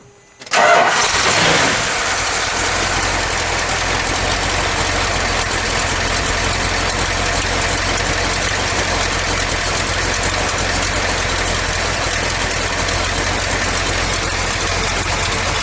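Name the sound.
1970 Dodge Challenger R/T 440 engine starting and idling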